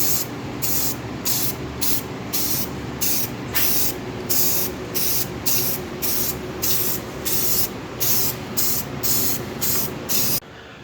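An aerosol spray can paints a homemade Bung King style motorcycle crash bar with highway pegs, giving a long series of regular hissing bursts, each about half a second, close and steady over a low background hum.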